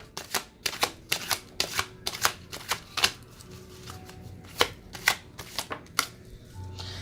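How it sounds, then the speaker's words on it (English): A deck of tarot cards is shuffled close up, giving a series of sharp riffling slaps and flicks in an uneven rhythm, moderately loud against a quiet room. "So let's pull some cards on these."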